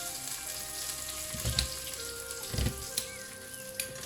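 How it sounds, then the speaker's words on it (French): Chopped onion dropped into a preheated electric cooker pot set to browning mode, a soft hiss of sizzling with a couple of dull thumps and small splatters, close and without voices. "je vais déjà verser mon oignon dans ma cuve qui est occupée de finir de préchauffer"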